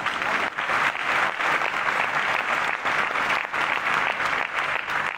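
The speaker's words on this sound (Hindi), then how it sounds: "आगे से लेकर पीछे तक सभी व्यक्ति एक बार जोरदार तालियां इसरो के लिए बजाइए" A large audience at a Hindi comedy poetry gathering in Kanpur claps loudly and continuously, a dense, sustained round of applause with no voices standing out.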